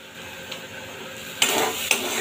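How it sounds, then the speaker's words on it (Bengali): A utensil stirs jackfruit mash with fried peanuts and shrimp in a pan. It is mostly quiet, with soft scraping and two sharp metallic clinks near the end. "আবারও ভালোভাবে মিশিয়ে দেবো।"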